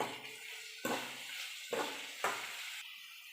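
Brinjal being stirred with salt in a pan, with several scraping strokes of a spoon against the pan over a soft sizzle, close and quiet.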